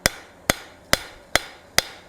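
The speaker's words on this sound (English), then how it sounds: "we don't want to hit that center ridge with our hammer blows." Five sharp, evenly spaced hammer blows ring out on metal while a feather-shaped dish is forged, each strike about half a second apart, close and loud with no talking.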